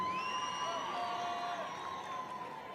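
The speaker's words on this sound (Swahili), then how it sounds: "Tumshangilie kwa makofi." Crowd cheers and whoops for the Elgeyo Marakwet governor at an Eldoret city conferment event, a sustained distant roar with a tonal whistle-like line above it.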